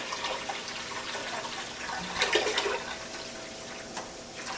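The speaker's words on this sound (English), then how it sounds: "add spring water, fluoride-free water," Fluoride-free spring water pours into a stock pot on a stovetop in a steady, rushing splash that swells briefly near the middle and then settles back down.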